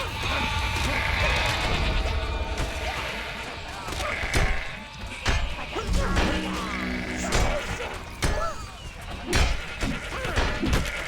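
Sheep bleat repeatedly in a video game as they are slaughtered, sharp whacks and crashing hits landing among the cries, with a person talking over the game sounds.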